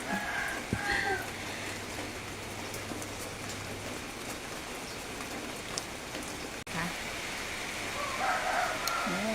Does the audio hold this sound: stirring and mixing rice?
no